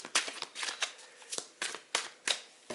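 Tarot cards being shuffled and dealt into two piles, a quiet close series of riffling bursts and soft slaps repeating at a brisk irregular rhythm, with no talk.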